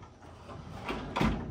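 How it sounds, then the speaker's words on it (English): A freezer door in a 2024 Dynamax Europa 31SS Super C motorhome is pushed up and clicks shut, a soft thud followed by a brief latching click up close. "As long as you just click the doors up in, they will lock"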